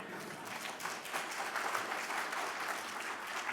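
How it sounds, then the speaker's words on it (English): A lecture audience, including high school students, breaks into applause at a talk on CRISPR genome editing; the clapping is fairly faint and distant and lasts the whole stretch. "That was an applause line for the high school students, by the way"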